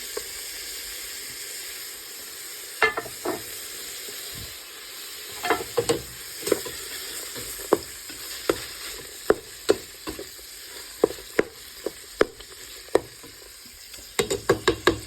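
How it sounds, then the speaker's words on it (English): Ground meat and onions browning in a pot over a bit more than medium heat, with a steady frying sizzle and repeated sharp clicks and scrapes from stirring, louder toward the end. "let that brown in the pot. And then we are going to add some onions into that so that they can brown with the meat."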